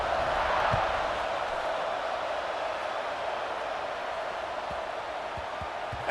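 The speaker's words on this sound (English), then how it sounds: "this crowd is buzzing after that last score" Football stadium crowd at an Oregon vs Arkansas game, a steady distant roar of many voices buzzing without pause, with a few faint thumps beneath it.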